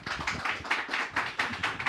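Studio audience applauding a guest on an Indonesian TV talk show, a steady wash of many hands clapping with rhythmic surges, fairly quiet and without voices.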